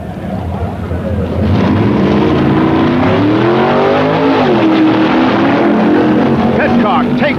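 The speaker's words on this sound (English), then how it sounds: "Al Ekstrand in lane number 1 and his Lawman Plymouth run against Pitcock's Plymouth in a Detroit run" 1964 Plymouth drag racing cars, including a Lawman Plymouth, accelerate hard down a Detroit strip, engines roaring loud and sustained with rising pitch as they launch, an announcer talking over the noise.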